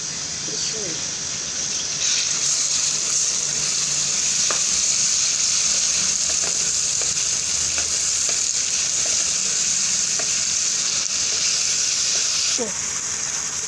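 Tomatoes hit a hot pan in a Pakistani-style potato and bitter gourd (aloo karela) dish, setting off a steady, loud close sizzle and fry hiss that runs throughout, with faint stirring clatter and occasional speech underneath.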